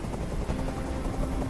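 A helicopter in the video game Detroit: Become Human gives off a steady, rumbling rotor roar, continuous and fairly loud throughout with no voices over it.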